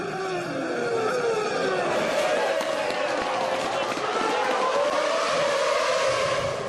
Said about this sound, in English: Fisichella is livening up proceedings with his assault on Coulthard